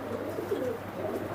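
Pair of high-flying pigeons cooing close by, low soft throaty coos repeated over a steady background hum.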